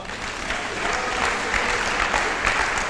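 Church congregation applauding together during a worship service, a steady dense wash of clapping that fills the space evenly from start to finish with no pauses.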